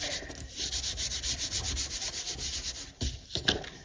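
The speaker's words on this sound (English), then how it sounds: "flip over and then just rub the back" Back of a sheet of paper rubbed flat by hand, a rapid rhythmic scrubbing swish repeating about five times per second, close and fairly loud, ending in a few separate strokes.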